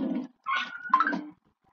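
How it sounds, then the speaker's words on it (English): A dog somewhere in a home gives a few short whining, yelping vocalizations close together, then falls silent, with no talk over it. "Sorry if you hear a dog in the background."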